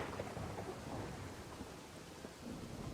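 Heavy rain falls in a steady, dense hiss with low rumbling thunder beneath, faint and distant-sounding, continuous with no voices.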